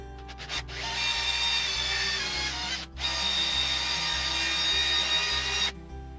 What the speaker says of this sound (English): we need to use a countersink to hide those screws